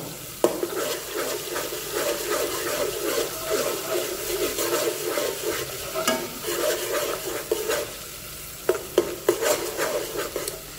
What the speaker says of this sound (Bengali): এবার এই মশলাটা উইথ সুগার কিছুক্ষণ এইভাবে কন্টিনিউয়াসলি আমি ভুনে নেব।